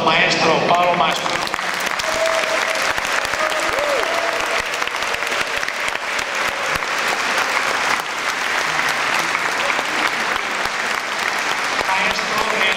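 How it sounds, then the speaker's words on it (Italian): Sustained audience applause for a choir conductor at a Christmas nativity concert by the Coro di Cantù, a dense, even wash of clapping filling the whole stretch, with a brief voice and some crowd murmur near the start. "vi chiedo un ultimo applauso al nostro maestro Paolo Mastro."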